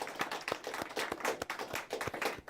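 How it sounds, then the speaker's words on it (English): Studio audience at a talk show clapping in applause, a dense patter of many hands, fairly quiet and sustained, with no talking over it. "Give everyone a round of applause who's"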